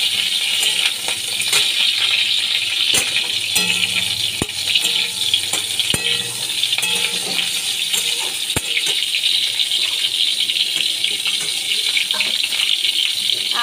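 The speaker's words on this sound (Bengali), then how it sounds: "ফুলকপি আমি ভেজে নিচ্ছি।" Steamed cauliflower frying in hot oil sizzles with a steady, bright hiss and scattered crackles and pops, heard close up and alone.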